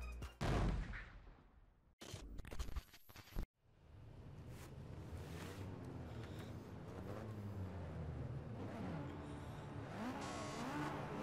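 At the start of a Project CARS 2 GT5 Cup sprint race, a pack of game race cars bursts into loud engine roars with sharp revving blasts, then settles into a sustained, close, rising drone of many engines together.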